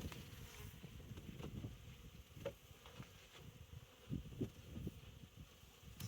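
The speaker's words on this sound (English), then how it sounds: "There's a fair amount of bees up top here." Honey bees hum in a crowded overwintered nuc hive during an inspection, a soft continuous buzz with faint low rumbles and occasional clicks and knocks near the frames.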